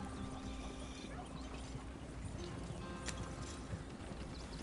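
Horse hooves pulling a wagon in the video game Red Dead Redemption 2, a steady clip-clop under constant rolling rumble and background noise, moderately close with no talk.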